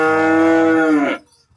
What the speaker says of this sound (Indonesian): Sapi yang sudah dipelihara kurang lebih 17 dan sudah banyak menghasilkan anak.